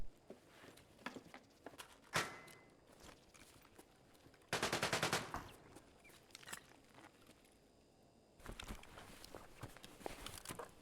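Gunfire in the shooter Escape from Tarkov, with faint distant shots and short bursts scattered through quiet ambience, then two louder close volleys about midway and near the end.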